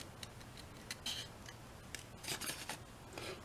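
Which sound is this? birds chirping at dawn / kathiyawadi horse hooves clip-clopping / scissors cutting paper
scissors cutting paper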